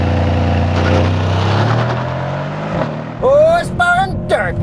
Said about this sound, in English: 2020 Mercedes-AMG C63S Coupe with launch control. Bit of a violent launch.